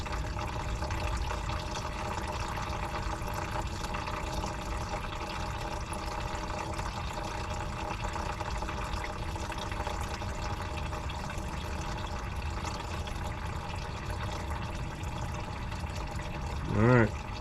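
A constant rushing, pouring flow of fuel drains out of a line into a container, a steady broadband wash of liquid that holds level throughout with no pauses.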